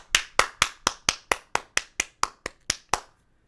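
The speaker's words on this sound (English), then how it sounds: "Let's clap it up for Tory" One person claps about a dozen times in an even rhythm, roughly four claps a second. The claps are crisp, close and alone, then stop abruptly.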